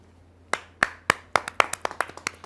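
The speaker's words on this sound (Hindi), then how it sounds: "स्वागत कीजिए, तालियों से अभिनंदन कीजिए" Hands clapping at a Hindi poetry gathering, a Kavi Sammelan on a TV show, where a few sharp claps quicken into a scattered patter of applause from a small audience, with no speech.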